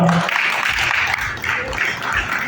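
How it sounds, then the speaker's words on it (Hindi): An audience at a stage event applauds in a steady, dense wash of clapping that holds fairly loud throughout, with faint voices mixed underneath. "तालियों की गड़गड़ाहट के साथ"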